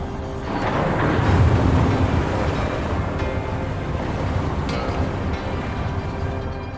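Water rushes and drains away in the Wuthering Waves video game, a broad, steady roar that swells early and then holds at an even level until it ends.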